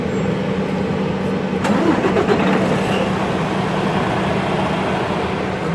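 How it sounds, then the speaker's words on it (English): A truck engine, started ahead of a DOT air-brake inspection, runs at a steady, loud idle with a low rumbling drone and a brief rattling surge early on, continuing evenly throughout. "First the truck is on."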